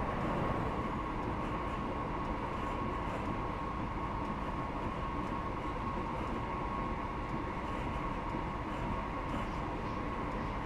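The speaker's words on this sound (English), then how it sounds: "There's a first Great Western HST." A Great Western HST train passes in the Train Simulator Classic video game, heard as a steady, dense rumble of engine and wheels on rails that holds for the whole stretch.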